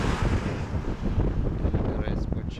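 Wind buffets a small sailing boat on open water, a steady broadband roar and rumble across the whole clip, close to the microphone with gusty swells and no clear voice.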